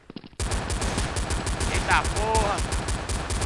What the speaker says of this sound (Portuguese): Eu dou 1 milhão de tiros, eu dou.